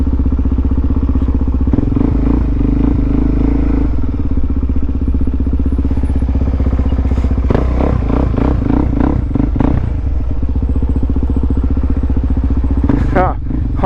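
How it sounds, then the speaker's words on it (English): Honda Grom motorcycle engine running steadily close by, a loud continuous low rumble with some clatter and revving swells, while people talk over it. "Honda Grom."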